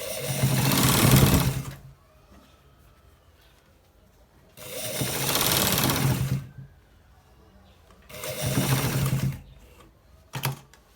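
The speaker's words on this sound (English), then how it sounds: "So guys, we are stitching it." A sewing machine stitches a designer shirt in three loud, close bursts of rapid mechanical whirring, each lasting a couple of seconds with quiet pauses between them, plus a brief short run at the end.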